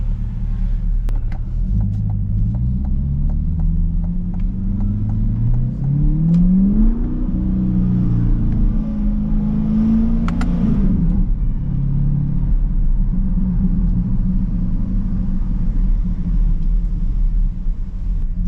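Corvette engine cruising on Rodeo Drive in Beverly Hills, a steady deep rumble with rising pitch sweeps as it accelerates and shifts through gears, close and loud.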